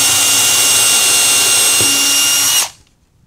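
A power drill drives a screw into a wooden hedgehog house, a loud steady high whine held for over two seconds and then cut off abruptly into near silence.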